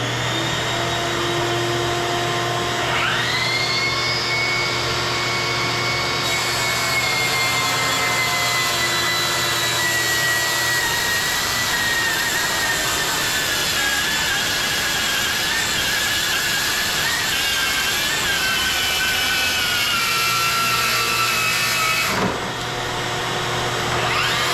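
Milwaukee track saw on a Powertec track ripping through a 1.5-inch butcher block slab: a loud, steady whining motor roar held for about twenty seconds, straining slightly toward the end before spinning down, with no talk.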